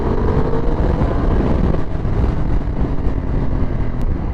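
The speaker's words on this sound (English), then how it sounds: "Tell you what, that V4 engine, it does pull you." A Ducati Multistrada Pikes Peak with a V4 engine pulls hard on the road, a continuous loud engine roar buried in heavy rushing wind noise, steady throughout with no voices.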